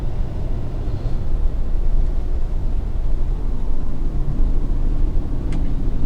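Road noise and engine rumble from a 2020 Freightliner Starcraft Allstar XL 36-passenger shuttle bus cruising near 30 mph at quarter throttle, a steady loud low drone heard from inside the cabin.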